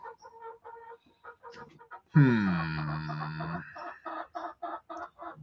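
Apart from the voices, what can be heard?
chicken clucking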